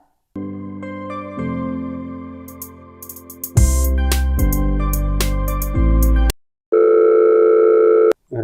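Incoming call tone ringing on a mobile phone: a loud, repeating electronic melody sounding alone, cutting off briefly and then starting again.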